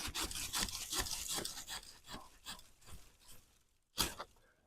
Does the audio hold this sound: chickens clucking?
no